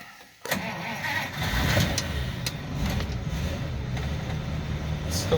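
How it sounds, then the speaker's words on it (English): A 1950 Pontiac flathead engine catches with a sudden start, then settles into a steady, low rumbling idle that runs on evenly, close by, with a few sharp clicks over it. "we're gonna hear that idle, that lovely idle I love on these flatheads"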